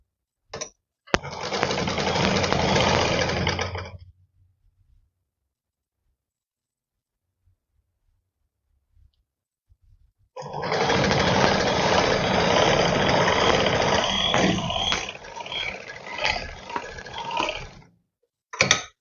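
Sewing machine stitching the seams of ladies' trousers, running in two loud, steady bursts of about three and seven seconds separated by a quiet pause, heard alone without talk.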